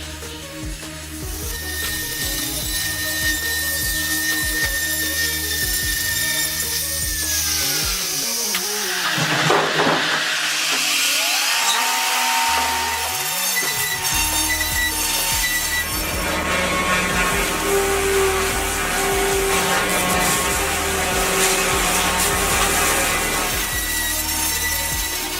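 An automated sawmill machine cuts through wood with a sustained, loud mechanical whine and grinding, briefly dipping in the middle before the sawing resumes steadily.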